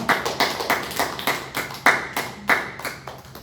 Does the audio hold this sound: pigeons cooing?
no